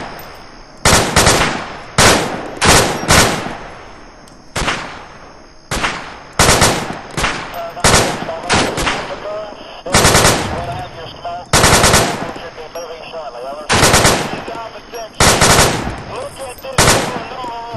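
Automatic weapon fire in the military shooter ARMA 2, loud close bursts of rapid shots repeating in clusters with short pauses between.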